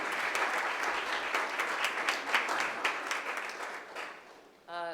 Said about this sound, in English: So I'd like a round of applause for all those sponsors that are in the audience this evening.